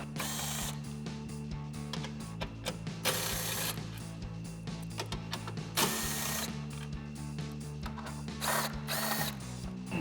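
An impact wrench with a 10mm socket removes the upper grille mount screws on a 2013-2018 RAM 2500, sounding as repeated loud rattling hammer bursts separated by short pauses over a steady mechanical hum.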